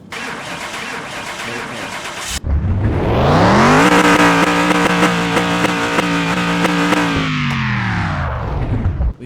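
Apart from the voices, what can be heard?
car engine starting up and revving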